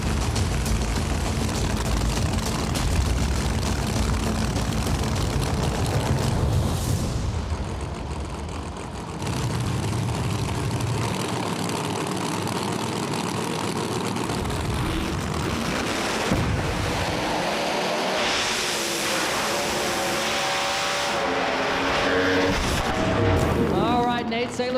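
A nitrous Camaro and a Pro Charge Nova race side by side at a no-prep drag race, their engines roaring loud and sustained, surging and fading through the pass, with a commentator talking over them.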